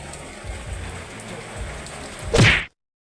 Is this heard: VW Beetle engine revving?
no